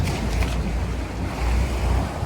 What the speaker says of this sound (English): these are the waves